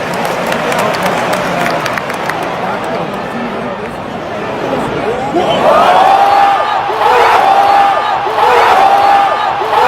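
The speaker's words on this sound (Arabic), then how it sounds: "تعالوا معانا نشوف هدف صلاح من المدرجات بصوت الجماهير" A large stadium crowd at a football match against Tottenham builds from a murmur into loud, rising cheers and shouts after a goal, heard from within the stands.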